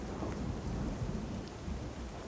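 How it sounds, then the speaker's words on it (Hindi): Heavy rain pours steadily onto surfaces with a low rumble of thunder beneath, dense and continuous throughout a short stretch, with no voices. "बारिश अब भी जोरों से जारी है"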